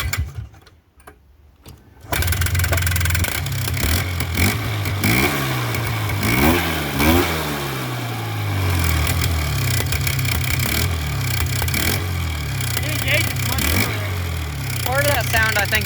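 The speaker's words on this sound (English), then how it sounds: "Part of that sound, I think, is exhaust leak." A Polaris 4x4 engine with an exhaust leak runs steadily and loud after a brief quiet start, its rough idle punctuated by rising and falling revs.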